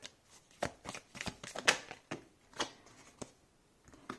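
Tarot cards being shuffled for a reading, a run of crisp riffling flicks and soft slaps in uneven bursts, close and quiet with no talking.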